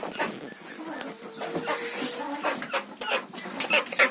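Young chicks and a duckling peep and cheep in a busy, overlapping chorus close by, with soft clucking mixed in.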